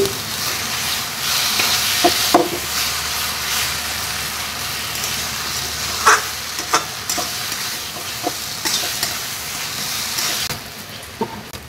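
Taro greens cook in a pan with fried prawns, giving a steady close sizzle and hiss with occasional stirring clinks and scrapes, no talk.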